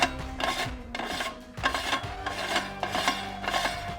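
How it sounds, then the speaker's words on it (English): The head of a Cabela's meat grinder is screwed back on with repeated rasping metal-on-metal turns in rhythmic strokes, close and moderately loud, with no speech. "and then the head will screw back on"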